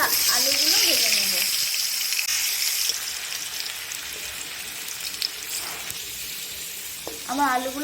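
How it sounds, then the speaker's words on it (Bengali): Potato pieces fry in hot oil in a wok for a vegetable khichdi, giving a steady broadband sizzle that runs the whole time. Faint voice-like tones come and go briefly at the start and end. "এবার আলুগুলো ভেজে নেব"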